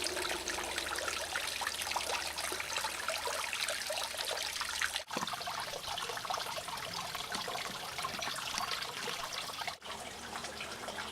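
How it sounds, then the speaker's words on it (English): Continuous splashing and trickling of running water from a small garden waterfall, steady and close, with no voices. "Over there we have a waterfall. Frogs love sitting in that running water."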